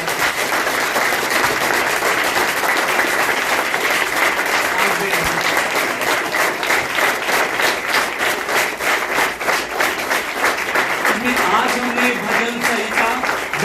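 A church congregation at a worship service applauds loudly and continuously, dense clapping filling the space with a few voices calling out beneath it.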